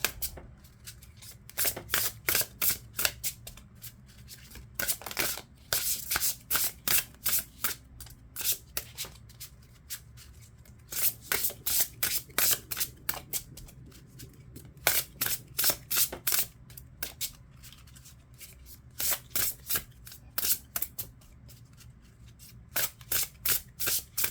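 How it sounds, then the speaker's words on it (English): Tarot cards are shuffled in repeated quick bursts of riffling and flicking, close and fairly quiet, with short pauses between rounds. "All right, now I'm going to shuffle these."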